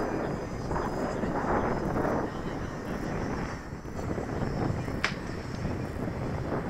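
A Freewing MiG-21 model jet roars on its takeoff run, a steady, loud whooshing engine noise buffeted by wind across the microphone, with a brief thin whine rising partway through.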